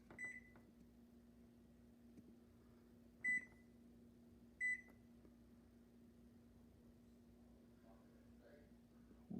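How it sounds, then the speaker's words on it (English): A new Samsung microwave oven runs with a steady, quiet hum throughout, broken by a few short electronic beeps near the start and middle and a faint clunk at the end, while a person speaks softly. "we're going to heat up the microwave for 1 minute so the light turns up"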